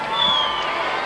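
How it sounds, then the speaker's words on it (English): A Roland Garros tennis crowd at the 1992 women's final reacts to a line call with a loud, dense burst of whistling, jeering and shouting that holds steady throughout. "the crowd don't like the ultimate decision"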